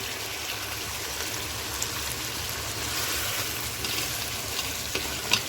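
Peas dropped into sizzling chicken masala in hot oil: a steady, dense frying hiss with soft stirring crackles throughout, close and even, with a small bump at the very end.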